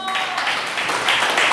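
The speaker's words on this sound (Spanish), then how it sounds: "Un aplauso por los jóvenes que sacaron buenas calificaciones." Applause for students with good grades at a church gathering, a steady wash of many hands clapping throughout, fairly loud and continuous with no distinct pauses.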